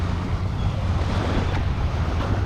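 Ocean waves on a Gulf Coast beach wash in a steady, low rumbling surf, with wind buffeting the microphone throughout and no talking.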